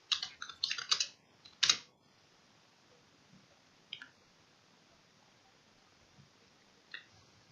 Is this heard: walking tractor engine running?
no